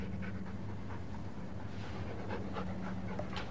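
A dog panting quickly and steadily in a room, close and fairly clear over a low background hum, with no one talking.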